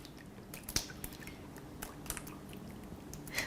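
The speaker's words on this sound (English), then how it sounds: "And you pour in your mixture." Bread pudding mixture is poured into a baking dish, giving soft wet squelches and scattered drips and splats, fairly faint, with no voices.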